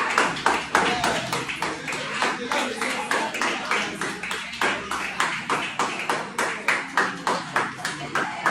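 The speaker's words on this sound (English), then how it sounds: "Let me see you clap." Schoolchildren at a school in Africa clap together in a room, a steady run of sharp, fairly close hand claps that settle into a rhythmic pulse, with voices chattering underneath.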